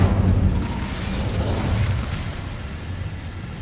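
Incendio fire spell in Hogwarts Legacy blasting outward, a loud roaring burst of flame with a low rumbling boom that rolls on steadily and slowly fades, no voices over it.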